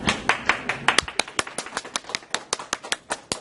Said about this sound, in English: Do proper applause.